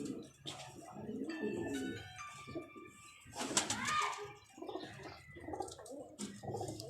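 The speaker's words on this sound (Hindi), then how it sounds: "ये कुछ कबूतर हैं जी" Domestic pigeons coo and murmur in a steady low burble, with a few sharper bird calls and rustling flutters mixed in, fairly close.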